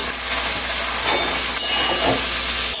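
Chopped potato, carrot and capsicum dropped into lightly fried onions in a pan set up a loud, steady sizzling hiss that carries on unbroken, with no talking.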